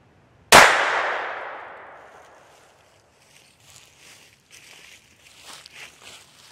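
A .22 Long Rifle round-nose bullet fired at a target during a bullet resistance test gives one sharp, loud crack that rings and fades over about two seconds, followed by faint shuffling and handling noises.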